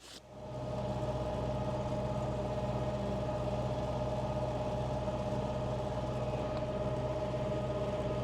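An MTZ-80 tractor engine starts and settles into a steady, low, rumbling idle with a constant hum and vibration, close by, with no talking.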